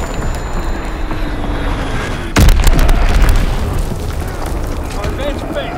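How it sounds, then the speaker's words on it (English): A single heavy artillery blast booms partway through a World War II battle in the video game Call of Duty WW2, over a constant rumbling battlefield din, with shouted voices around it. "Incoming enemy artillery! Get to cover! Enemy bomb incoming!"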